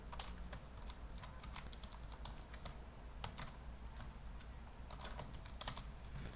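Fingers typing on a computer keyboard while Python is being set up and tested on Windows 11, quick irregular key clicks in short bursts, close but quiet, with no talk.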